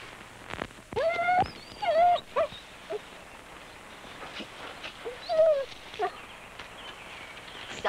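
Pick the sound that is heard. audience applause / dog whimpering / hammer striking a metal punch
dog whimpering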